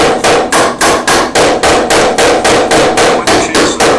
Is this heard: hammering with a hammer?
yes